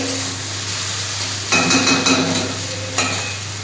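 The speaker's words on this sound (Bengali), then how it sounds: "পেঁয়াজের সাথে ঢ্যাঁড়সটা একটু ভেজে নিলাম" Okra frying with onions in a pan, a steady close sizzle with stirring scrapes that grow louder midway, then ease off with another quick stir near the end.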